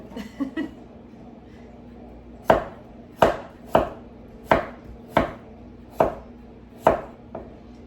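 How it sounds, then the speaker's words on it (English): A knife chops onion, cabbage and radishes on a cutting board, landing about eight sharp, evenly spaced strokes close by after a few quicker light taps at the start. "I know I'm probably making some of you nervous with the way I chop"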